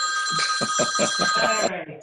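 A telephone rings insistently during an online club meeting, a bright trilling electronic ring repeating close to the microphone while someone talks underneath it, then cutting off.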